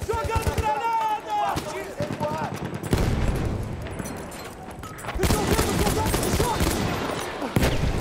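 Battlefield 1 combat with bursts of rifle and machine-gun fire, a loud thump from a thrown grenade and heavy crackling action, close and intense, while someone talks over the fighting.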